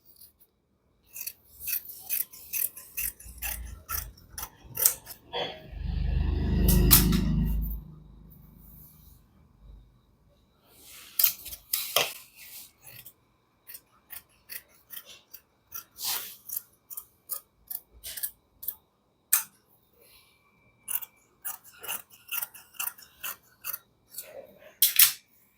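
Scissors cutting fabric for a palazzo, a run of crisp close snips in quick bursts with pauses and a longer rustle of cloth being handled, no talking.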